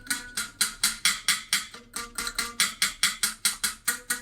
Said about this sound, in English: Here it is sitting on the table.